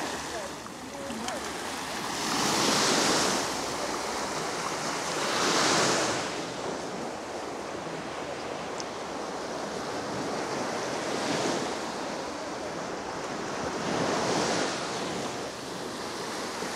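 Sea waves break on a beach at Salou, Spain, a broad steady surf roar that swells every few seconds, with wind rumbling across the microphone and a voice speaking faintly at the start.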